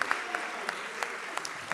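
Sparse, quiet claps from a small audience at a hackathon award announcement after the first prize goes to the winning team, with a handful of separate hand claps scattered over a low room hum.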